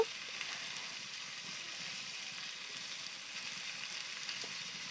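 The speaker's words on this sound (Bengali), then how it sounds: "মিট মশলাটা দিয়ে এবার আমি কষাবো" Chicken being fried in a pan with meat masala, a steady, even sizzle with a soft crackle, heard close and alone without talk.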